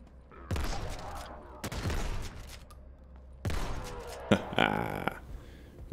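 Shotgun blasts in the video game Krankenheit, a few loud booming shots spaced apart, the last followed by a metallic reload-like clatter.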